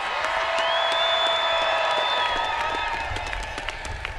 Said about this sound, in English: Make some noise. Clap your hands.